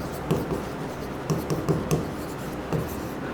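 Pen or chalk scratching out maths working on paper or board, in short irregular strokes and taps, close and fairly quiet with no talking.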